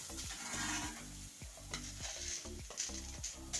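Grated coconut fries in coconut oil in a pan and is stirred with quick, rhythmic scraping strokes over a faint, continuous sizzle, heard quietly at close range.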